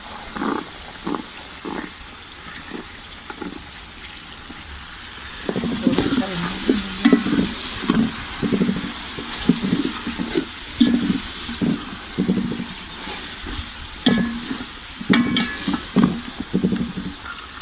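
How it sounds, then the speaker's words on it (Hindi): Peas fry and get stirred in a pan for chicken fried rice, sizzling steadily throughout with loud scraping stir strokes; the frying grows louder and busier about halfway through, with no talking. "अब हम इसमें मटर डालेंगे"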